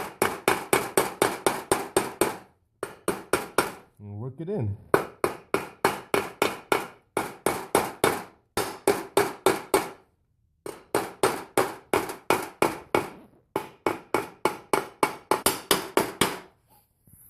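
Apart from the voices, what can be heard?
hammering a seal in with a socket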